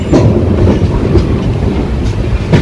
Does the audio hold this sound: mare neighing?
no